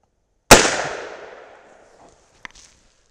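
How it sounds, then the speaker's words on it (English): A single sharp .357 Magnum shot from a Henry Big Boy lever-action rifle firing powder-coated 158-grain loads over Alliant 2400, an abrupt loud crack with a decaying outdoor ring and a faint distant echo slap afterward. "So left-hand dot, let's shoot a little group."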